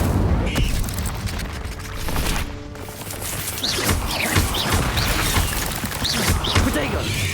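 Incendio fire spell blasts in the video game Hogwarts Legacy, loud booming bursts and crackling whooshes over a dense, busy game soundscape with music and effects.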